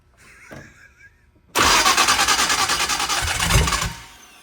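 An engine cranks and catches while given a little gas, starting roughly after a brief quiet stretch, then pulsing unevenly at idle, loud and close.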